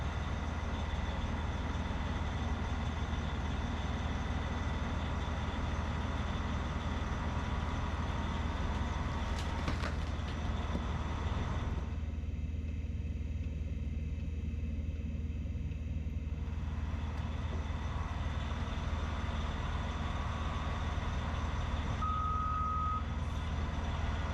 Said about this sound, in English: We're going to drive the loader down off the blocks.